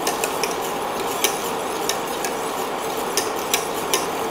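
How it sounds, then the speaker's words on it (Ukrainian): A whisk stirs thickening pistachio-cream custard in a pot, giving a steady scraping swish with light metallic taps against the sides, close up and with no voices. "Треба постійно мішати"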